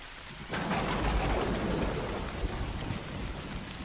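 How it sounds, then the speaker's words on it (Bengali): A sudden, rumbling boom of thunder breaks out over a night rainstorm in an animated ghost story. It is followed by a dense, continuous roar of rain that gradually softens. "ঠিক সেই সময় দূরে কোথাও হঠাৎ তীব্র শব্দে একটি বজ্রপাতের সঙ্গে"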